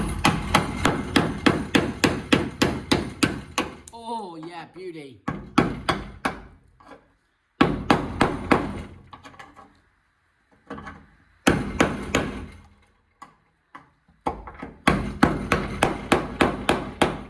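Rapid metallic tapping in bursts, a hammer and chisel chipping filler off the body of a 1973 VW Karmann Ghia, pausing between runs; a brief voice speaks during a pause.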